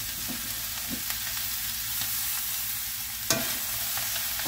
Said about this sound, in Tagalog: Ang style ko kasi mga buddy is ginigisa ko muna itong sahog niya.